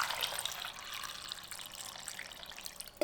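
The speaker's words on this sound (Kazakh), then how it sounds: "Су құйып," Water pours steadily into a medium saucepan holding 550 grams of peeled potatoes, a soft continuous splashing rush heard up close and alone.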